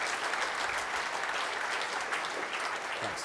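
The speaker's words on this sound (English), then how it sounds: "So, round of applause for Jason and Jacob." A crowd applauds steadily, a dense even wash of clapping that holds at the same level throughout.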